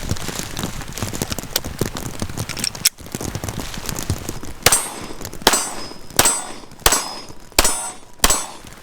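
A Rock Island STK100 all-metal striker 9mm pistol fires a rapid string of shots at steel targets. It is followed by several sharp, evenly spaced shots, each ending in a bright ringing clang from the steel.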